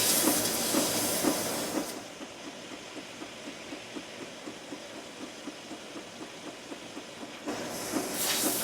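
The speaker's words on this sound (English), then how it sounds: "That's the steam we want." Steam hisses from a steamer loosening the dovetail neck joint of a Martin guitar, a loud close rush that cuts out for several seconds, leaving faint rhythmic ticking, then bursts back at the end.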